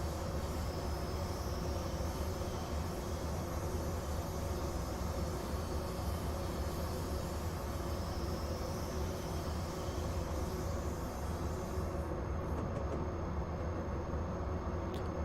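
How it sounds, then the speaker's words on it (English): A locomotive runs in Train Simulator Classic, Santa Fe and Bessemer steel route, giving a constant dense engine drone and rumble with steady rail noise, unchanging throughout and without speech. "The dynamics seem a little weak on this locomotive."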